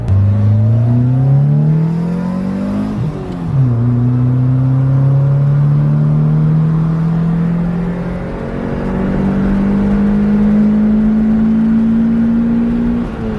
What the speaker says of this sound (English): I don't even want to keep revving it.